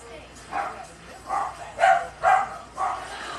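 Dogs bark indoors in a home, a string of five muffled barks at an even pace, moderately loud, with faint background noise and no clear talk.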